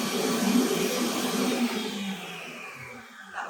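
A Multo by Cooking Pal kitchen machine whirls garlic herb butter, a close motor whir that starts strong and gradually winds down over a few seconds without talk.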